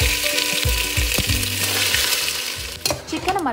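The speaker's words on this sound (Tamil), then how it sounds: "இன்னொரு கடாய் வச்சு ஆயில் ஊற்றி அதில் சிக்கன் போட்டுக்கலாம்." Chicken pieces fry in hot oil in a kadai with a loud, continuous sizzle close by, broken by a few scraping stirs.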